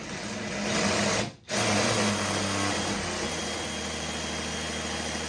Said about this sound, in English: This is just a 1/4-inch carbide bit, and I'm just elongating these holes.